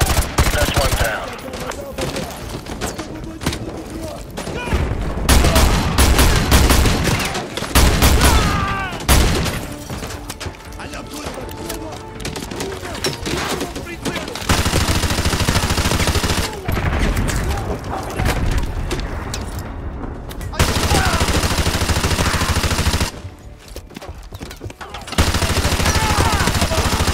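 Call of Duty Modern Warfare 2 campaign firefight, with long bursts of machine gun fire, single shots and booms layered over game noise and radio chatter, loud and nearly continuous.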